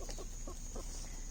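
A red-laced blue Wyandotte hen clucks softly in a short run of about four rhythmic clucks, close by, against a steady background hiss.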